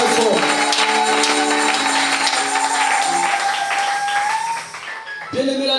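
A church congregation claps loudly and steadily throughout a service, a dense wash of hands mixed with sustained musical tones. The clapping thins briefly near the end before swelling again.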